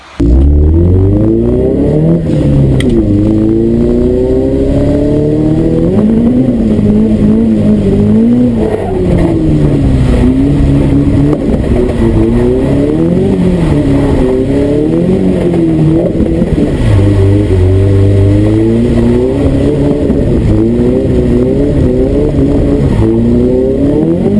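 A Nissan S13 car engine revs up and down continuously during a driving run, loud and close, with shifting pitch and no talk over it.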